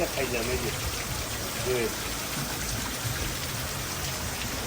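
Cold mountain spring water flows and trickles around items left to cool in it, a steady close babble with a voice briefly audible over it.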